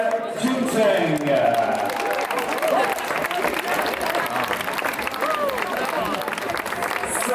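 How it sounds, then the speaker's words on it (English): A crowd claps and cheers at the finish of a mountain marathon for finisher Cheng Jingcheng, a dense, steady wash of applause with crowd noise that holds at an even level throughout. "Mesdames et messieurs, un tonnerre d'applaudissements."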